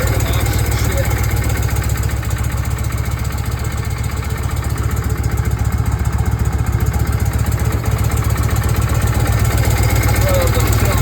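A Harley Davidson Shovelhead motorcycle engine runs at a steady, loud idle, firing continuously after its first start in 40 years, with a cracked inlet fitting, close up and unbroken throughout.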